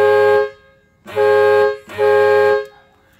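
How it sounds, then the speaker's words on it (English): An air horn worked by a pull lanyard like a big truck's sounds three loud, steady blasts, each lasting under a second with brief gaps between, alone with no talk. "now I have a pull lanyard just like a big truck for the air horn"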